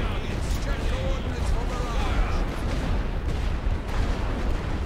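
An artillery barrage in The Great War: Western Front rumbles as a dense, continuous roar of guns firing, with deep booms blending into a constant wash, loud and sustained.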